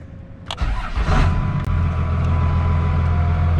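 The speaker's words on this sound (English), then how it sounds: "And then you can start the truck." A second-generation Cummins diesel pickup truck cranks briefly and fires up, then settles into a loud, steady, rumbling idle close by.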